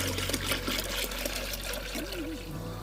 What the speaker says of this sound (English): that's going to pour just a small amount in there